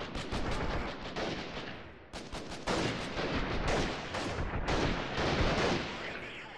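Dense, sustained gunfire from a guerrilla-warfare video game, with rapid overlapping shots and bursts filling the whole stretch, loud and close, with only a brief lull partway through.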